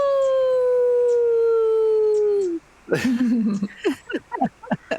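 A human voice imitates a wolf howl, one long sustained falling tone, followed by a run of shorter yipping howls, close and loud with brief gaps.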